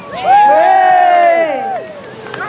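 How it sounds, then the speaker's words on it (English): Spectators at a medieval knight combat re-enactment show at Happy Mount Park cheer loudly, with a strong sustained shout rising over the crowd's roar before fading into scattered voices. "Give Ragnall the cheer!"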